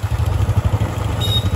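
A Royal Enfield Bullet motorcycle rides along an expressway with its engine thumping in a rapid, close, steady rhythm and no talking.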